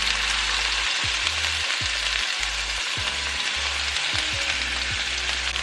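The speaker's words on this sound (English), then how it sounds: "Now carefully place your fish in the skillet and cook for 4 minutes." Cod fillet searing in olive oil in a skillet, a loud, steady sizzle that holds without a break, with low hum and rumble underneath.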